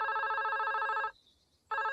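A cartoon telephone rings in the Little Kingdom of Ben and Holly, a loud electronic trill that pauses briefly and then starts again, heard alone with no talk.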